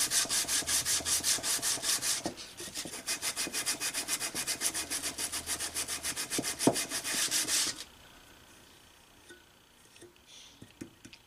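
Ring knife blade being hand sanded against a brass backer before heat treatment: fast, rhythmic scraping strokes in a steady run for about eight seconds, then a few faint taps and rubs in near quiet.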